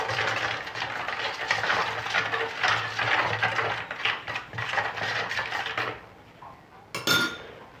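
A spoon scrapes and clinks steadily against a bowl while fish is mixed with garlic, a busy repeated clatter that stops, followed by a single sharper clink near the end.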